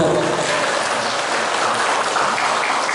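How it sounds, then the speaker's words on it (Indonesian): An audience claps loudly and continuously for three seconds at a Sunday morning Islamic study gathering, a dense, even wash of applause. "Tepuk tangan Bu."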